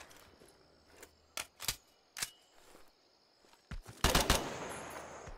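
Close gunfire from Incursion: Red River, scattered single shots and short bursts that end in a louder, denser volley, with no voices over them.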